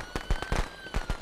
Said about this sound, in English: Those firecrackers, I knew would come in handy!